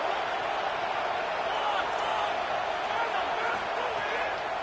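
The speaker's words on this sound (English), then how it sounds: "Decibels rising as the crowd gets behind this defense on third down." A football stadium crowd roaring on third down, a continuous broad wash of cheering and noise from a large crowd with no distinct breaks, steady and fairly loud throughout.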